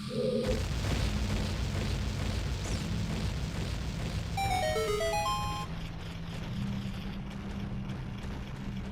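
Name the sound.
bomb flower chain explosion in the video game Zelda: Ocarina of Time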